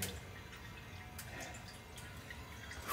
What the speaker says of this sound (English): we have coolant dripping